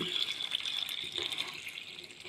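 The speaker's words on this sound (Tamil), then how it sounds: "இந்த மாதிரி இந்த டம்ளர் ஃபுல்லாக நீங்கள் தண்ணி போட்டுக்கோங்க" Water pours steadily into a tumbler, a continuous splashing fill that carries on alone for a couple of seconds, close to the ear, during home preparation of a fenugreek soak.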